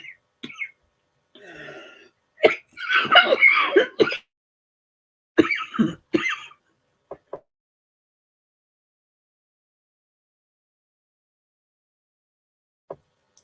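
Coughing from a dry throat comes as a few short, close coughs and throat clearings in separate bursts, followed by long silence broken only by a couple of faint clicks.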